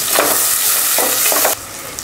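Shallots sautéing in oil with mustard seeds, fenugreek and curry leaves for a South Indian kulambu, a steady close sizzle with stirring scrapes that drops off abruptly near the end.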